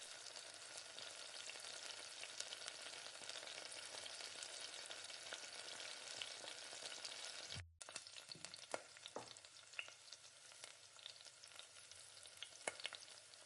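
Fish pieces frying in oil, a steady dense sizzle for several seconds, a brief cut, then softer sizzling with occasional pops and crackles, no voices.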